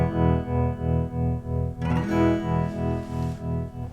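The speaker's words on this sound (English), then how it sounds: "You hear the volume swelling slower" A distorted electric guitar chord runs through a custom tremolo effect driven by a slowed sine wave, its volume rising and falling in a steady, slow pulse with a brief burst of noise midway.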